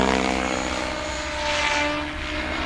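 An RC helicopter flies 3D pirouetting manoeuvres, its rotor and engine giving a loud, continuous whine and buzz that swells and fades slightly as it turns, with no talking.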